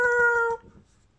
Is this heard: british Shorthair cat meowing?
yes